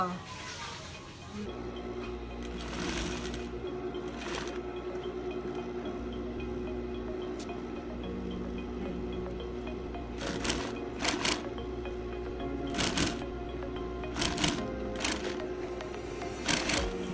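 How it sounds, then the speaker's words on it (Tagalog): A sewing machine stitches a zippered cushion pillowcase, giving a low continuous mechanical hum with several short bursts of rapid needle clatter, mostly in the latter half. "Tahiin po natin dito."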